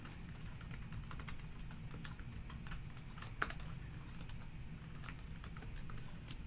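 Fingers type on a computer keyboard in a fast, continuous patter of faint, close key clicks with one slightly sharper tap midway.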